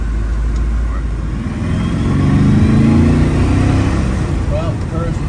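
1971 Aston Martin DBS V8 accelerating hard on the road, heard from inside the car: a loud, low engine roar that builds and swells through the middle before settling, with some faint talk beneath.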